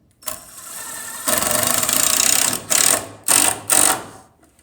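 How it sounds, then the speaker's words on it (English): A power driver whines as it drives timber screws into a wooden arbor, with one long steady run followed by three short, loud bursts, close and without talk. "We're going to get our timber screws in place."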